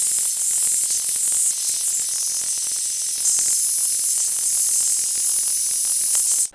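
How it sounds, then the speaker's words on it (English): A hairdryer blows a steady, loud airy hiss over a water-damaged MacBook Air, continuous for several seconds with faint handling knocks, cutting off abruptly at the end. "I'm just going to use a hairdryer."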